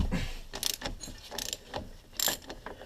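Ratchet loosening a brake caliper bolt on a 2003 Chevrolet Malibu: quick, uneven bursts of metallic clicking, close and moderately loud, with short gaps between strokes.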